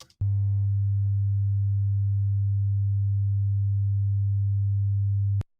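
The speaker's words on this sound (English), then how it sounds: "if I make the limiter release time slower, you'll see this distortion start to dissipate" A steady low electronic tone that starts buzzy and distorted from a limiter, the harsh edge fading away after a couple of seconds into a cleaner, sustained hum as the limiter release slows.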